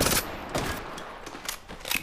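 Rapid bursts of automatic gunfire in the mobile shooter game Apex Legends Mobile, several sharp volleys in quick succession with no talking.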